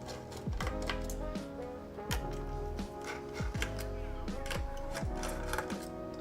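Keys are typed on a Tofu TKL mechanical keyboard, giving close, crisp clacks in a steady, evenly spaced rhythm with a faint ringing tone under each stroke.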